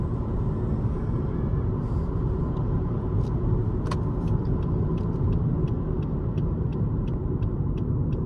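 Interior of a 2019 Lexus ES300h hybrid car while driving, a steady low road rumble with a faint electric motor whine and light ticking clicks in the background.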